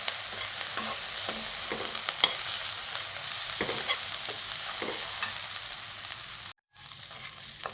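Mixed vegetables, green peas and paneer sauté in ghee with a continuous close sizzle, while a spoon stirs and scrapes the pan in repeated strokes; a brief dropout near the end, no voices.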